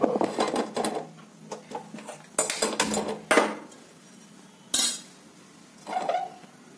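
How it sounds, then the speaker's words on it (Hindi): A metal karahi set down on a gas stove, a series of sharp clanks and scraping metallic knocks in irregular bursts with quiet gaps between, fairly close and alone. "डायरेक्ट हम ऐसे गैस पे रख देंगे कढ़ाई।"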